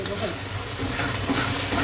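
Spice masala of ginger paste, chilli paste, salt and turmeric is stir-fried in a pan, giving a steady, dense, close sizzle that fills the whole moment, with no voices.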